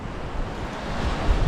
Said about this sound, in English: and still windy